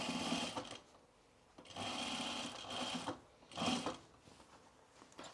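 A sewing machine stitches a seam on a pair of trousers in three short runs of quick, steady needle chatter, close but fairly soft, with brief quiet gaps between runs.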